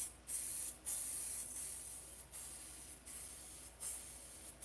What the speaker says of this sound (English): It was spraying and now it's malfunctioning.